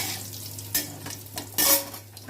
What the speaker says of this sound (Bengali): আমি তেজপাতা আর শুকনো লঙ্কা জিরা করে দিয়ে দিলাম